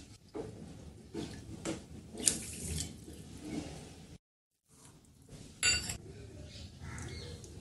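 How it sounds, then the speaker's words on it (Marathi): Water is poured from a bowl onto washed rice and toor dal in a cooking pot, splashing and trickling in several bursts with a brief silent gap and a few clinks of the vessel. "तर यामध्ये आता शिजण्यासाठी पाणी टाकून घेऊया"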